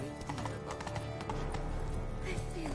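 Horse hooves clip-clop in The Witcher 3, a steady, fairly close rhythm of hoof strikes over a bed of game music and ambience.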